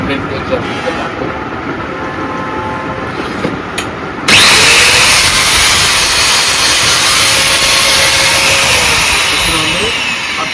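Bosch GDC 141 marble cutter under repair: a loud, steady high-pitched motor whine starts abruptly partway through and runs on close by, over a quieter hum beforehand.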